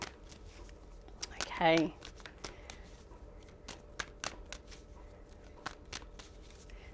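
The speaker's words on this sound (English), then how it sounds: "I'm going to shuffle, Gemini, and pull 3 cards." Tarot cards being shuffled for a reading: a run of light, crisp card riffles and taps spread across the clip at close range, with a brief voice and some talk in between.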